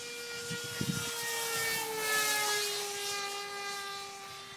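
A RaidenTech Long-EZ model aircraft flies on its maiden flight, its propeller a steady, faint drone rising and falling as it passes at a distance, with a couple of brief knocks near the start.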